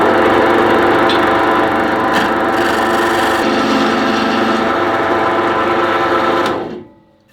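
Wood lathe turning a wooden handle for an ice cream scoop, a steady loud whirring drone with scraping texture from the tool on the spinning wood, running continuously for about six seconds before spinning down.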